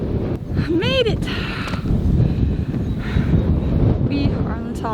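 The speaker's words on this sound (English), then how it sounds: "It's really windy up here, as you can probably hear." Strong wind on top of a Mayan pyramid near Cancun batters the microphone in a constant, loud rumble, while voices talk and exclaim over it throughout.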